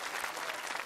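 Audience applause at a Russian talent show, following a beatbox performance: a brief, steady burst of dense clapping from a crowd, with no voices over it.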